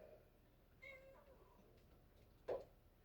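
A pet cat meows indoors in a kitchen, two short, fairly faint cries about a second and a half apart, with no talk over them.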